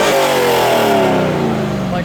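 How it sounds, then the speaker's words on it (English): A Corvette engine revs hard while blowing black smoke at an autocross event, a loud, close roar with falling pitch as it is driven away. "So here's my car rolling coal."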